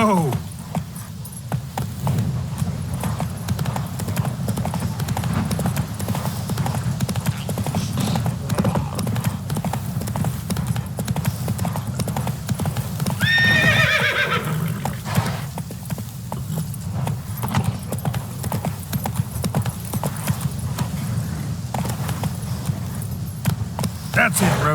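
A horse in The Witcher 3 galloping with steady rapid hoofbeats throughout, plus a short high whinny partway through, loud and continuous with speech heard in the mix.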